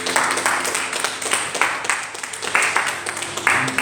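Congregation applauding in a church, a dense steady patter of many hands clapping together, loud and close, with rhythmic swells and a few voices mixed in.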